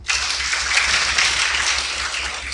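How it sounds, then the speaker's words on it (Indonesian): A group claps together during an Islamic religious lecture, a short burst of dense clapping that starts abruptly and holds steady for a couple of seconds. "Tepuk tangan."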